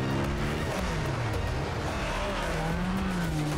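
A van driving fast with tires squealing, a loud, continuous rush of engine and road noise with a whining, sliding pitch running the whole time.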